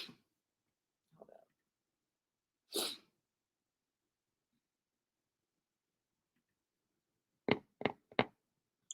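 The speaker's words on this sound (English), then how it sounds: "Ooh, I feel like I have to sneeze." A single sneeze bursts out in an otherwise quiet room, followed a few seconds later by a short cluster of sharp, close breathy sounds.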